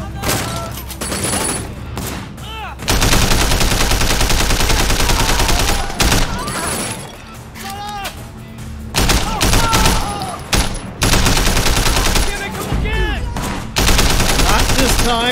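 Rifle fire in the video game Sleeping Dogs: loud, rapid bursts of gunshots in several sustained volleys separated by short pauses, with sparse game sounds between them.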